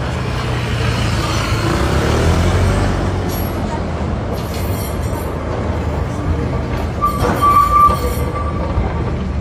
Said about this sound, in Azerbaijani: tapdım bu tramvayı.